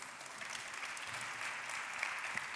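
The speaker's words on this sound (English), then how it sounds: "I'd like a round of applause for our panelists." An audience at a climate and energy talk applauds its panelists with steady, even clapping that sounds distant and fairly quiet, carrying on without any speech.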